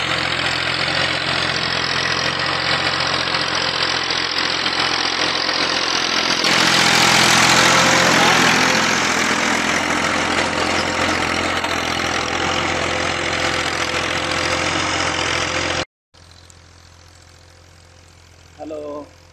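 A tractor engine runs continuously while working a field being prepared for a new crop, a loud, steady mid-pitched drone that swells partway through before cutting off abruptly, followed by a quieter stretch.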